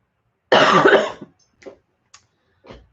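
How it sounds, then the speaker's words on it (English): A single harsh, close cough bursts out loudly, followed by a few fainter throat sounds and small clicks in otherwise quiet surroundings. "I'm coughing a lot"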